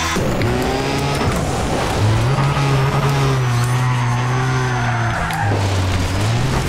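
Racing car engine in a video game, revving loudly with sustained high-pitched whine and shifting pitch, tires skidding and squealing, continuous and close with no talk.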